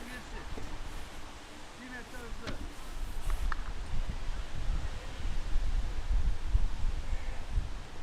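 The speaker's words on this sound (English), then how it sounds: "Just see that wind there. Really, really gusting again." Strong gusts of wind buffet the microphone outdoors at a lawn bowls green during a European Championships match, a steady rushing roar that swells and stays loud throughout.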